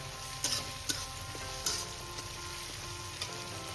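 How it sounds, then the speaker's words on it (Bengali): Onion, ginger, garlic and tomato fry in a pan with a steady, quiet sizzle, broken by a few sharp clicks and scrapes of stirring, and no voices. "এবার আমি এটা কিছুক্ষণ একটু ভেজে নেব।"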